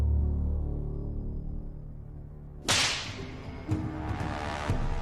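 A scorpion whip lashes a hanging pig carcass, a sharp loud crack followed by a few more hard, snapping strikes at irregular intervals over a low background rumble.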